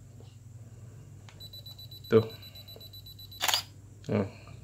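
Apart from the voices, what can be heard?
Canon 450D DSLR self-timer beeping then shutter release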